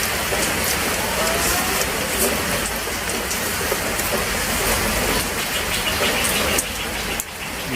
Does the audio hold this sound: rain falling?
yes